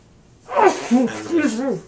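A person sneezes indoors, a sharp close burst followed by breathy vocal sounds, with people speaking around it.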